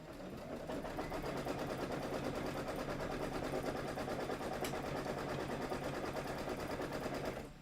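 A sewing machine quilting a fabric table topper runs in a fast, even, continuous stitching rattle for several seconds before stopping. It is fairly quiet, and no voices are heard over it.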